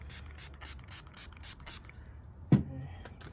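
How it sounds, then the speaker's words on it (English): Pump-spray bottle of Turtle Wax cleaner squirted in a quick rhythmic series of short hisses onto a 1999 Beetle headlight, up close, followed by a sharp knock and quiet handling noise. "Put some more spray on it."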